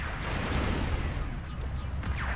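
Rail gun shots and other weapon fire in the robot combat game Robocraft, a dense, continuous barrage of blasts and impacts with high zipping streaks, loud and steady throughout with no talk.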